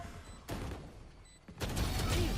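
Gunfire rings out in the video game Valorant, with sharp rapid bursts of shots that cut in twice and carry on densely at the end.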